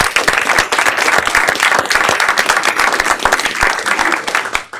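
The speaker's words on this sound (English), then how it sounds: "I think we should give them a round of applause" Loud audience applause at a Harvard innovation lab event, a lively burst of many people clapping with distinct sharp claps standing out from the dense mass, fading slightly at the very end.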